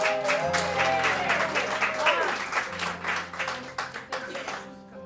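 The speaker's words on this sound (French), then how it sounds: "belle main d'applaudissements pour Fulgence Blanc" Applause at a poetry evening in a small venue, a steady patter of many hands clapping at moderate volume, thinning toward the end, with a voice and some tonal sound running underneath.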